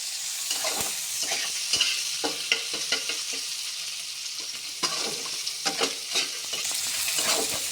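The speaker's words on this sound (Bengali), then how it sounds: "দেখো, এই রসুন আর পেঁয়াজটাকে তেলের মধ্যে আমি একটু নেড়ে নেব।" Chopped garlic and onion frying in hot oil for a Bengali mochar dhoka, a steady close sizzle broken by repeated scraping stirs of a spatula against the pan.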